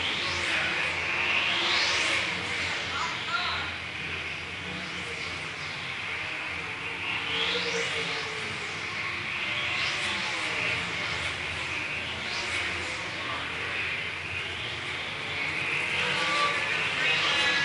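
Sprint cars race around Salina Speedway at an NCRA championship, engines roaring steadily with repeated rising and falling whines as cars sweep past through the turns, with a track announcer's voice over the noise.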